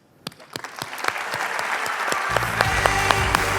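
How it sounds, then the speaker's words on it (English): A conference keynote audience applauds award-winning customers, scattered claps quickly building into dense, loud, sustained applause as a low musical swell rises underneath. "Now let's give them one more big round of applause."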